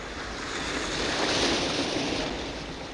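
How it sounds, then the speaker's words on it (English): Sea surf washes steadily up the shore, a broad continuous rushing that swells slightly in the middle, loud and close with no voices. "They watch as the castle gets washed away by the waves"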